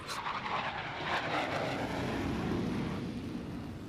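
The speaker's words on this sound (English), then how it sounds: "the skies over Lemoore echo with the deafening roar of FA-18 jet fighters" Several F/A-18 fighter jets roar continuously over Lemoore, a loud, broad engine rumble that swells and holds steady across the sky with no voices.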